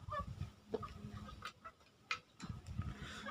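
Quiet, scattered clucks from chickens come in short bursts with pauses between, and there are faint ticking and pecking sounds in a calm outdoor space.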